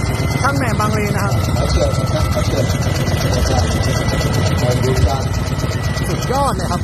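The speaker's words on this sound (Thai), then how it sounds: "Hino K3C Turbo คู่ครับอันนี้เป็นเครื่องของท่อสูบน้ำซิ่งนะครับ" A Hino K13C twin-turbo engine drives a modified water pump, running loud and close with a steady, rumbling drone throughout while people talk over it.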